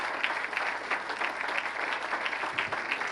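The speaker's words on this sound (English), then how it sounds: "Please, a round of applause for Zan, Ann, and Sarah." At a gala, a crowd in a hall applauds award presenters and recipients, a sustained, even roar of clapping with no voices standing out.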